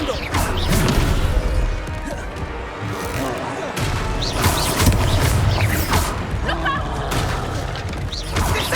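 Heavy magical slam from the Descendo spell in Hogwarts Legacy, a dense crashing, creaking thud buried in a busy, loud mix of combat effects and game sound, with voices heard at times.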